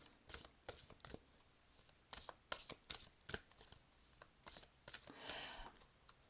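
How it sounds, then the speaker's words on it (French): Cards are handled at close range as a deck is cut and half slipped underneath, producing a series of crisp, irregular riffling and slapping bursts with brief pauses between them. "j'embarque la moitié des cartes en dessous"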